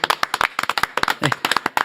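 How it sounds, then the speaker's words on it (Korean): A small studio audience on a talk show claps to welcome a guest, a close run of distinct, sharp claps in quick uneven rhythm, with a brief voice mixed in near the middle. "이순천 이사님 박수로 맞이합니다"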